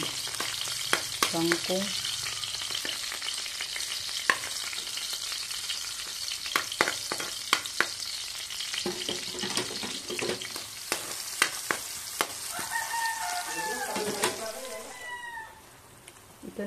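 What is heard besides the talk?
frying in cooking oil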